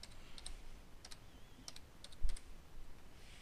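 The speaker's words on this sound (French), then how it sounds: "on va écrire danger" Quiet typing on a computer keyboard entering text for a danger sign design, with a few sparse keystrokes in short bursts over a soft room hum.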